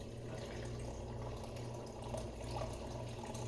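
Water being poured from a cup into a pot for arroz con leche in a home kitchen, a steady continuous splashing stream running for several seconds with no talk.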